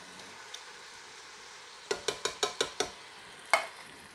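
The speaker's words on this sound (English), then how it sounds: "Gonna go ahead and add our tomatoes now." Tomatoes go into a chorizo goulash in a Ninja Foodi pot: a rapid run of six sharp clinks or taps against the pot, then one louder knock, over a faint sizzle.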